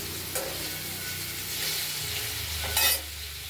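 Steady sizzling of cabbage frying in a pan with potatoes, with a couple of brief stirring scrapes and a louder burst near the end; no talking.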